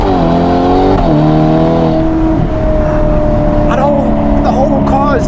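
A 688 hp Novitec-tuned Ferrari Portofino M roars loudly from inside the cabin, revs climbing and dropping through gear changes with crackles on lift-off, while someone talks over it.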